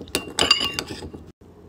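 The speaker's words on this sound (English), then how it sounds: "Mix it all together in a bowl." Guacamole ingredients such as diced tomatoes being stirred together in a bowl, heard as a handful of close clinks and scrapes of a utensil against the dish, brief and irregular, with no talk.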